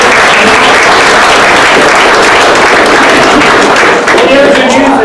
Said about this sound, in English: we got to give them a round of applause for stepping up